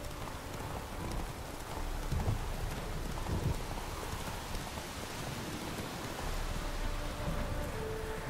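Steady rainfall in The Witcher 3: Wild Hunt, a continuous hiss of drops on surfaces with faint hoof clip-clop beneath, moderately loud and even for several seconds.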